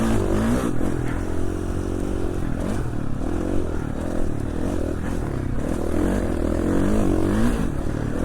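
A KTM motorcycle engine on an Idaho desert ride revs and surges loudly and continuously, its pitch rising and falling as the throttle works over rough ground.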